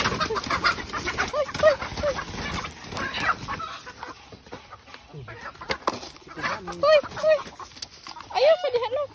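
Chickens on a rural farm cluck in short repeated bursts, close by and moderately loud, while people talk over and between the calls.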